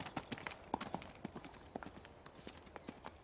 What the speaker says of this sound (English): Our brain sees a horse coming towards us.